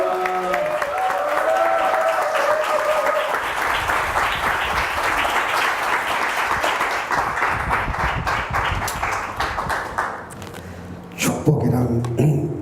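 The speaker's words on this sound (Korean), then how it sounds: "하나님께 크게 박수로 영광 돌리고 목사님 환영하겠습니다" A church congregation at a revival meeting breaks into loud, sustained applause to welcome a pastor. A voice speaks briefly at the start, and the clapping fades near the end as talking resumes.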